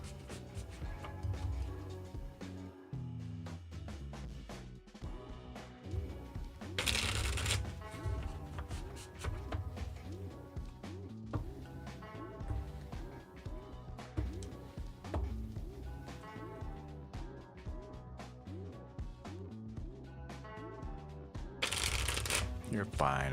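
Tarot cards being shuffled in repeated riffling bursts over background music, with a voice talking intermittently between the card sounds.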